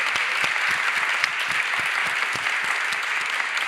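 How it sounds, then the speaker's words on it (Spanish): Steady applause from an audience at a concert-style tribute, dense overlapping claps filling the whole stretch at an even, moderately loud level with no voices on top. "quisiera que le diéramos un aplauso tremendo a Alex Viguera"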